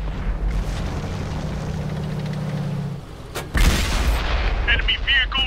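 An enemy tank blows up in a video game: a steady engine rumble drops away, then a sharp, loud explosive boom hits, followed by rolling rumble and crackling debris, with game voices heard nearby.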